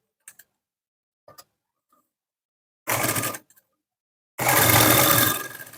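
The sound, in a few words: sewing machine stitching piping thread on blouse lining cloth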